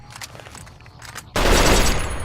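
A rifle in Fallout: New Vegas lets off a sudden loud burst of gunfire after a quieter stretch, the blast holding dense and heavy for the rest of the moment.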